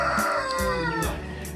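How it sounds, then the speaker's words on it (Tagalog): Rhode Island Red or Black Australorp crossbreed chickens on a farm in Sankanan, Manolo Fortich, Bukidnon: close, loud crowing and clucking from several birds overlapping continuously, with no speech. "Naa sila kani siya nga mga manok, crossbreed ni sa Rhode Island Red o Black Australia."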